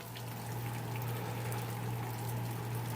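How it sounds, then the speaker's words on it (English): Sparge water and wort flowing steadily through a homebrew mash setup, a continuous low trickling and pumping wash with a steady hum, close and unbroken for the whole stretch. "We want our sparge water going in and our sparge and our wort coming out to be at about the same speed."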